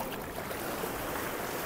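Sea waves crash and wash along the Somnath shore in a steady, close roar of surf, with no voices heard.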